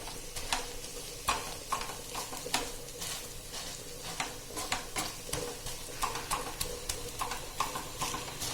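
Chicken bonda stuffing pressed with a masher in a pan, making a rhythmic series of soft thumps and squelches repeated every half second or so over a faint, constant sizzle.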